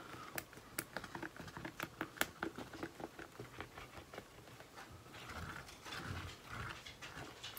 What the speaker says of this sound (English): if you hear click-clacking, that's my dog.